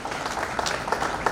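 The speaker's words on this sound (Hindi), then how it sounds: "हम स्वयं अपने लिए एक जोरदार तालियां बजाएं प्लीज" An audience at an Indore coaching owners' association fifth-anniversary event gives brief applause, a soft, fairly distant patter of many hands clapping.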